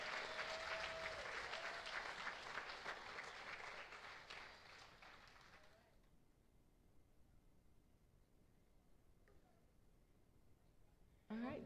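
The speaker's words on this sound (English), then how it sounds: "Let us give them a hand clap." Congregation applauding and clapping in a church during a baptism service, loud and dense for about six seconds before fading away, followed by quiet room tone and a brief burst at the end.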